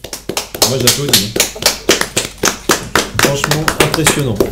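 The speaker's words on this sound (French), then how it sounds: "moi j'applaudis." On a television show, a few people clap rhythmically, with distinct close claps spaced like beats, while voices and singing-like tones run underneath.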